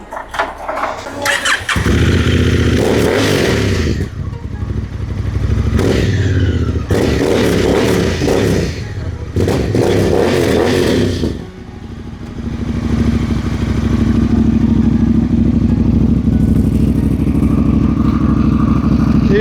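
A Honda Africa Twin adventure motorcycle starts up close by, with several loud revving bursts separated by short pauses, then drops into a steady, rumbling idle.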